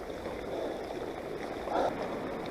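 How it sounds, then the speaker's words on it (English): A heavily flowing stream in woodland, swollen by flooding, gives a steady broad rush of water that stays fairly loud and close throughout, with a brief surge near the end and no talking. "Pretty heavy flowing stream."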